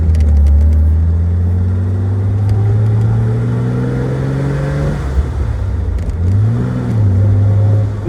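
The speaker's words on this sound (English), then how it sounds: "we're driving a beautiful 1969 Jaguar Series 2 XKE" A 1969 Jaguar Series 2 XKE with a 4.2-liter straight-six and five-speed gearbox drives along, its engine droning close and loud, pitch climbing steadily under acceleration, then dropping and rising again through a gear change.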